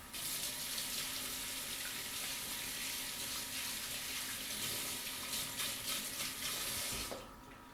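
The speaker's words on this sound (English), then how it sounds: "I'm just going to rinse my hands with some hot water to get rid of that" Hot tap water running in a kitchen sink while hands are rinsed of butter during banana bread baking: a steady, close rush and splash that stops abruptly at the end, with no talking.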